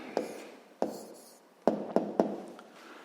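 A pen or pencil writes down an answer on paper during a sixth-grade math exercise, giving a few sharp taps and scratchy strokes in an irregular rhythm, close and fairly quiet.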